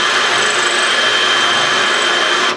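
Power drill boring into tile through a steel drill guide, a steady grinding whine held at one even pitch for over two seconds, close and loud, cutting off abruptly at the end.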